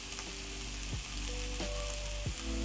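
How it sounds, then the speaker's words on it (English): Carrots sauté in a pan with a steady close sizzle while being stirred, as a few scraping strokes come through over the constant frying. "I'll be adding carrots and then stir. Then I'll saute for about 2 minutes."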